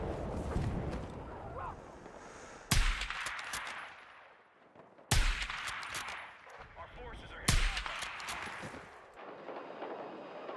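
Three heavy, booming shots from a PSR sniper rifle in a video game, spaced a couple of seconds apart, each with a long echoing tail, with a voice talking in between.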